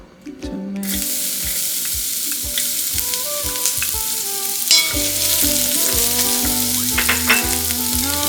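Dried pollock sizzles in perilla oil in a pan for a Korean soup, a steady close frying hiss with repeated soft stirring scrapes and clinks throughout.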